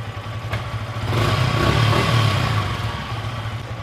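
A 2025 Yamaha R15M motorcycle engine idles, then revs up and eases back down in a single short rise, heard close by with no talking.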